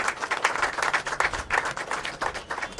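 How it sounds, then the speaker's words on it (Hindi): An audience at a hospital opening in Kandivali claps steadily in honour of a family, a dense patter of hands that runs without pause for a few seconds at moderate distance. "इस परिवार को दिल से जोरदार तालियों के द्वारा सम्मान दें"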